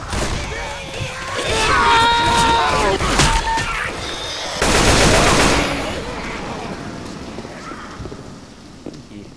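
Gunfire in the zombie shooter game Left 4 Dead 2, with rapid automatic bursts and sharp shots, loud and close. Voices talk over the shooting, and quieter in-game sounds follow afterward.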